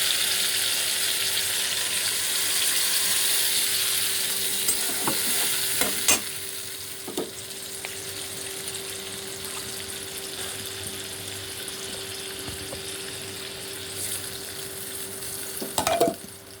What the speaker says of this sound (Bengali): মশলাগুলো দিয়ে দেবো, মশলাগুলো দিয়ে একটু ভেজে নেবো।